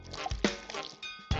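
Water poured into a pan while making apple pie in a cooking video game, a quick series of splashy drips and pouring bursts with bright game sound effects, close and fairly quiet.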